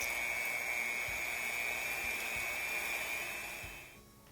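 Electric hand mixer beating butter for strawberry buttercream, a steady high-pitched whine droning close and continuous, then dropping away as the motor stops near the end.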